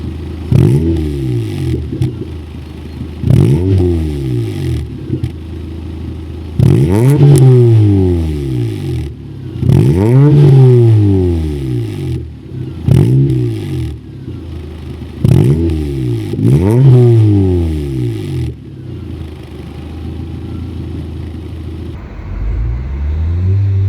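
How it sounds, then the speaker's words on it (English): A modified exhaust on a Toyota Paseo revs repeatedly, with about seven deep, rumbling throttle blips that rise and fall in a steady rhythm over a loud idle. The car is close and no one speaks. "how close can I get to like a good, nice, rumbling, deep exhaust sound in a Paseo"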